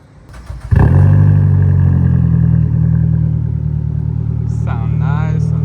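A stock Mitsubishi Evo X engine starts up and then holds a steady, loud idle-to-rev drone, close by, with brief chirps and voices in the background near the end.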